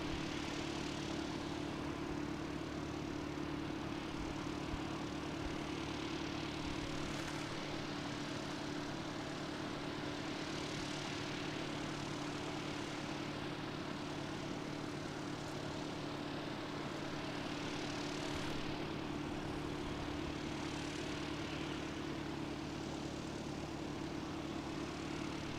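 An ATR aircraft at Christchurch Airport taxis toward the hangar with a steady propeller drone, distant and faint. A constant engine hum carries a few slow swells as it moves.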